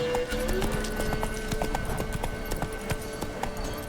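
Roach, a horse in The Witcher 3, gallops with rapid rhythmic clip-clop hoofbeats, close and steady throughout over a soft game ambience.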